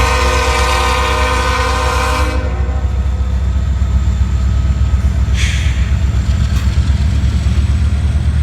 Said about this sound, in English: The BNSF 8279 was leading today. It's an SD75i.